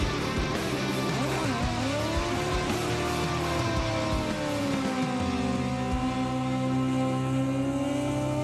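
A drag racing motorcycle's engine revs and climbs in pitch, sustained and loud throughout, with whining harmonics sliding up and down and no talking.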